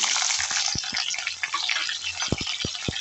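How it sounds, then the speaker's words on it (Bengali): Cauliflower florets frying in hot oil for a vegetarian paneer dish, giving a steady bright sizzle throughout with several sharp knocks and clatters of a utensil against the pan. "এবার ওই তেলের মধ্যেই ফুলকপিগুলোকে ভেজে নেব"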